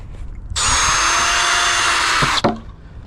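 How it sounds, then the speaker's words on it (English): A power drill bores a hole into a Ford Explorer's rear bumper area for a bumper protector, a loud, steady high whine lasting about two seconds that cuts off abruptly, with a brief clunk right after. "That way when I drill the hole, it's nice and clean."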